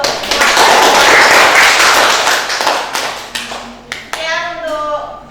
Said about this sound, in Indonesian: Boleh saya minta tepuk tangan yang meriah